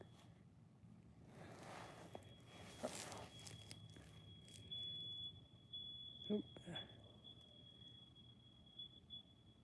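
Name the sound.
fire alarm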